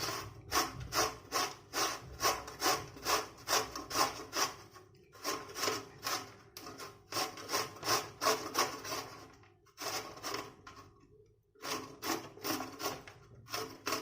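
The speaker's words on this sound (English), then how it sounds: "To make this chutney, first let's grate the mango." Fresh mango rubbed against a grater for chutney, a steady run of rhythmic rasping strokes in quick bursts with a few short pauses, close and fairly loud with no talking.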